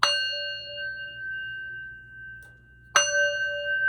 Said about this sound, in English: I hit that bell